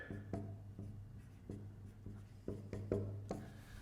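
A pen writes on a board in a run of short, rhythmic scratching strokes close by, each one crisp and separate against a steady low hum.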